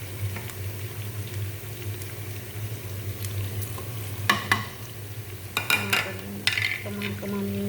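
Food frying and sizzling in a pan with steady hissing and occasional scraping and clanking as it is stirred, close and fairly loud with no talk.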